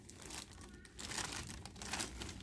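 Thin plastic shopping bag crinkling and rustling as a Mother's Day gift is packed into it, close and fairly loud in irregular bursts that swell twice, with no talking.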